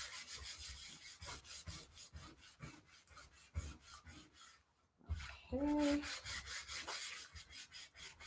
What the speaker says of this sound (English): Probably use a sanding block, might be better. See, because all the paint covers the sandpaper and then it like has no abrasion anymore.